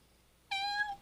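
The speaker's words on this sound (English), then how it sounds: "the meow of this cat is like this." A cat named Braveheart gives one short, thin, tiny meow after a quiet pause, clear and close, rising slightly before trailing off.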